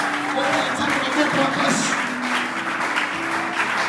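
A church congregation breaks into loud, sustained applause and cheering, a thick continuous roar of clapping with voices calling out above it.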